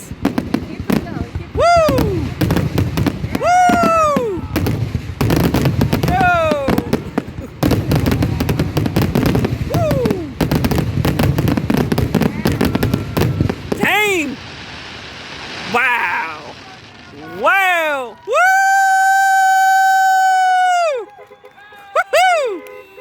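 Fireworks burst over Montage Mountain in loud, rapid volleys of crackling bangs with rising whistles, ending in a few long whistling shells; people cheer and shout throughout.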